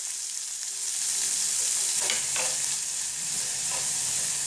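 Chopped onion frying in a pan for rava uttapam, a dense continuous sizzle that swells as the onion goes in, with soft stirring scrapes, close up and without talk.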